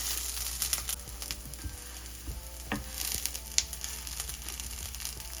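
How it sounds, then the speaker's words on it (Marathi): Soya tikki patties frying in oil in a pan, a soft continuous sizzle with small crackles and occasional clinks of a utensil, moderately quiet and close, with no voices. "5 ते 10 मिनिट याला फ्राय करून घ्यायचं."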